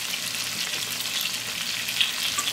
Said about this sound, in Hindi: ज़रा रोस्ट करेंगे, बहुत ज़्यादा नहीं, हल्का सा रोस्ट कर लें 1 से 2 मिनट। इसके अंदर फ्राई करेंगे